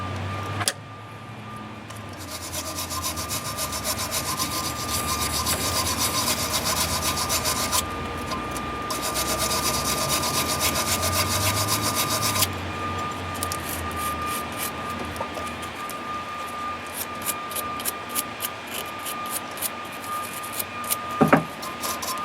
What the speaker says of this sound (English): I'm going to clean that one up as well, this wire brush